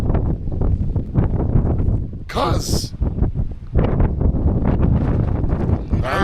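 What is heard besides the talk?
strong wind blowing outdoors on a mountain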